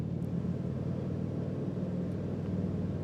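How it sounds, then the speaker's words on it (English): A Harley-Davidson motorcycle engine rumbles steadily at a moderate level, a continuous low throaty drone of a ride through woods, with no voices. "You can hear the Harley sound in the background there."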